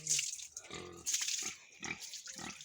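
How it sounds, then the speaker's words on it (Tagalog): A large pig in a rural village pen makes a series of close, rough grunts and snorts in uneven bursts. "Pugi na baboy, oh."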